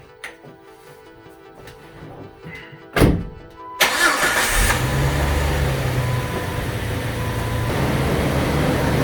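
A truck engine with a newly corrected pinion angle cranks over, catches with a loud burst at about four seconds, then settles into a steady rumbling idle and pulls away, close by with no talk.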